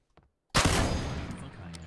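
PUBG gunfire: after a near-silent start with a faint tap, a sudden loud burst of rapid automatic shots erupts and keeps rattling close by, then tails off slightly.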